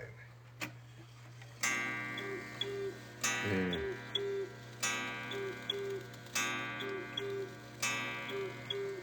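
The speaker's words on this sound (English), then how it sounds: "it's actually hoo-hooing instead, so we call it a hoo-hoo clock" A hoo-hoo clock in a clock shop repeatedly sounds a soft two-note hoo-hoo call, about once a second, over a steady ticking and a low hum, close and clear.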